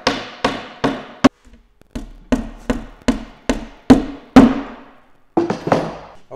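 A hammer drives a wall anchor snug into a wall with a run of about a dozen crisp, close taps in an uneven rhythm, a brief pause partway through, and then a quick final cluster.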